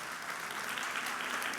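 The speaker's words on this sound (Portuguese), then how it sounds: "Aplauda o Senhor Jesus mais uma vez." Dense, steady applause from a church congregation at an 8 p.m. Portuguese-language service, soft and somewhat distant, a continuous wash of many hands with no talking.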